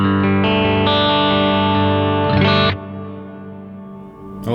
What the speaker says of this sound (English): we can add a bunch more reverb if you want